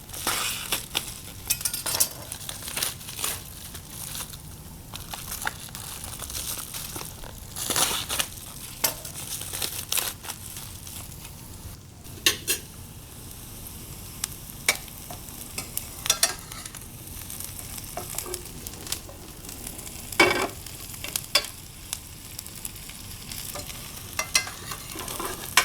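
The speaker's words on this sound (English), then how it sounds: "So single layer of the onions and garlic, so it caramelizes nicely." Onions and garlic fry in a single layer in a pan for adobo broccoli and cauliflower, a constant close sizzle broken by frequent sharp scrapes and clicks of stirring.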